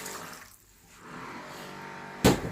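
About a kilogram of water pours into a pot of Karachi-style beef biryani with tomatoes, a steady gushing stream starting after a short lull and ending with a sharp knock of the vessel, with no talking.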